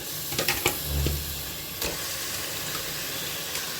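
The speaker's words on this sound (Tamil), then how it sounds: "இப்போ இதில் சிக்கனை சேர்த்துக்கலாம்." Chicken dropped into a pan of sizzling chilli masala for a Tamil chicken curry, a few soft thumps and scrapes and then a steady, moderate frying sizzle.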